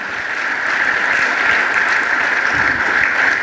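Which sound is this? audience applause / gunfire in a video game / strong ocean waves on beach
audience applause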